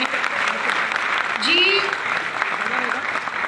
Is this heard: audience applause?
yes